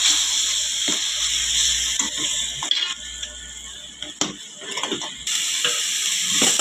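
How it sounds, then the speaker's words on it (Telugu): Tomato paste fries with masala in a pan for a stuffed brinjal curry, a continuous close sizzle broken by a few scraping stirs and brief clanks. "టమాటా పేస్ట్ వేసుకోవాలి బాగా వేయించుకుందాం"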